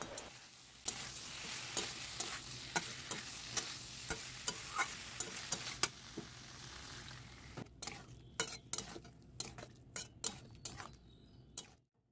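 Shrimp and pointed gourd masala is stir-fried in a pan, with a quiet sizzle under repeated sharp clinks and scrapes of a spatula, which continue alone once the frying fades.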